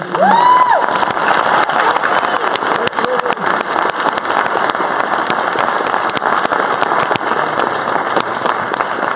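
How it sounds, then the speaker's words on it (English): An audience at a mayoral and council candidate debate in a high school breaks into sustained applause, a dense wash of clapping throughout with a brief voice near the start. "Can we get a round of applause for the candidates?"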